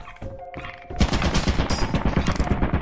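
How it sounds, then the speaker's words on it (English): Rapid gunfire from a shotgun-wielding enemy in the video game Lethal Company, a dense loud burst of repeated shots after a short quieter lead-in, continuing steadily to the end. "I think the shotgun's chasing me!"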